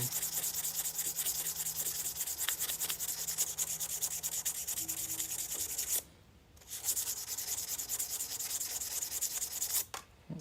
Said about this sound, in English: Use the same piece of sandpaper all the way through, you'll end up polishing it.